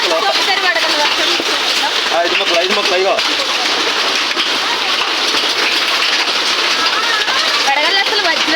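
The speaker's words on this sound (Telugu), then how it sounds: "ఒకసారి వడగల వర్షం" Hailstones and rain hammer down steadily in a Hyderabad storm, a constant close roar of impacts with scattered sharper hits, while someone speaks over the downpour.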